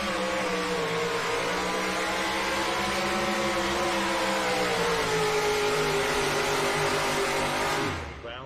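A two-wheel drive pulling truck roars at full throttle during a pull at an NTPA truck and tractor pulling event, a loud, sustained engine howl that slowly climbs in pitch before cutting off abruptly near the end.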